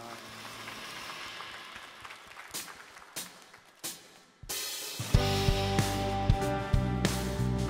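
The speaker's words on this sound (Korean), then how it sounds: "우리 박수로 하나님께 영광 돌리겠습니다" A congregation claps during a Korean church service, starting as scattered light clapping and swelling into fuller, louder applause mixed with the first notes of music toward the end.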